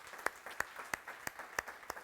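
Scattered applause from a church congregation during a Spanish-language sermon, about six distinct, evenly spaced claps over two seconds, fairly faint and with no voices.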